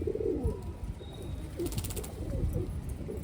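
Pigeons coo repeatedly in a loft, soft low throaty calls rolling in an uneven rhythm at close range with no talking.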